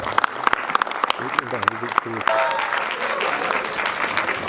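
Applause at a film premiere for the Prakash team, starting after a few sharp claps and amplified voice, then swelling into sustained crowd clapping.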